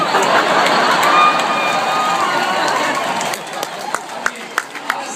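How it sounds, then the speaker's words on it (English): Stadium crowd applause at a Father's Day event, a dense steady wash of clapping for about three seconds that thins out into a few scattered, separate claps near the end. "it feels really good to get an applause in this stadium"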